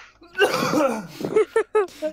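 A voice clears its throat and coughs, a rough burst followed by a few short, choppy hacking sounds close to the mic.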